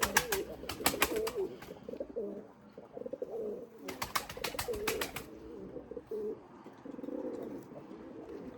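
Pigeons coo softly nearby, with two short bursts of wing flaps as birds take off, and quiet background noise between.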